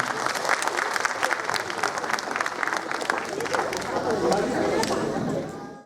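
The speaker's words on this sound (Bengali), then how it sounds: "ওদের জন্য একটা জোরে হাততালি আরেকবার হয়ে যায়" An audience at a physics department annual reunion at Jadavpur University applauds the performing students with dense, sustained clapping and crowd chatter, loud and close, fading at the end.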